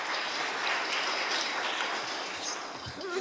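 Conference audience applauds a round-table panel with a steady, dense, fairly distant wash of clapping throughout.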